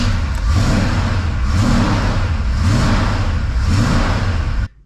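A 1975 Chevy C10 pickup engine runs loud and close, surging in repeated rev swells roughly every second before cutting off abruptly at the end.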